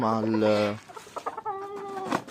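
A rooster gives a loud, harmonic crowing call up close, followed by softer clucks and a second drawn-out call.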